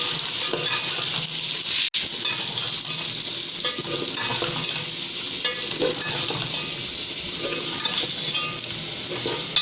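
Spices sizzling and frying in a pan for egg biryani are stirred steadily for the whole stretch, with allspice powder and crushed coriander in the mix. The hiss is continuous and close, and there is one sharp clack near the start.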